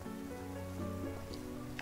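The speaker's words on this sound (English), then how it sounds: "Oh, there's the rain right there." Steady rainfall in the farming game Deiland, a soft continuous patter of drops with a faint background hum and a couple of brighter drip accents near the end, no voices.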